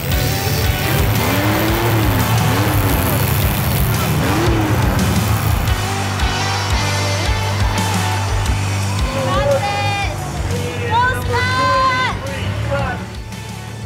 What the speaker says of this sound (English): Car 파괴 경기를 정말 신나게 구경했는데요.